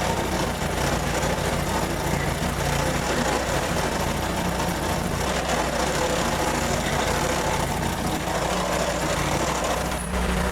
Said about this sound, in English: I would definitely recommend trying to find a bigger stump grinder than that one